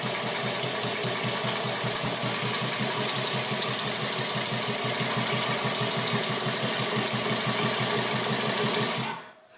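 An industrial Singer 31-15 boot top sewing machine stitches at a steady fast rhythm, a loud close mechanical chatter and hum running continuously before cutting off abruptly near the end.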